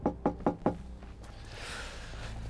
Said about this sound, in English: Should I knock on? Give a knock.